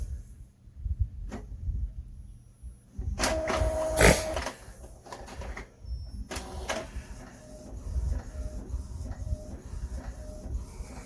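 Epson ET-2720 EcoTank printer printing, with low mechanical rumbling, a couple of sharp clacks and whirring carriage passes, and a bright burst of motor noise midway, fairly close and steady.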